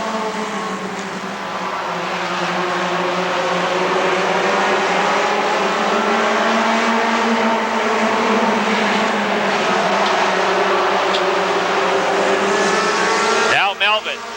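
Stock race cars roar around the oval at Rockford Speedway, a dense continuous wall of engine noise with several cars close together, a sharp engine pass flaring near the end; an announcer talks over it.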